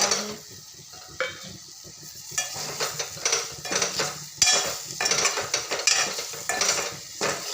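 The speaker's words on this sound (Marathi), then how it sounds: "तर आलूला छान मसाला मसाल्यामध्ये एकजीव होईपर्यंत खालवर करूँ दयाच" Boiled potatoes turned over and stirred in a spicy masala in a pan for a stuffed potato dish, with a ladle scraping and clinking against the metal over a steady sizzle, close and moderately loud.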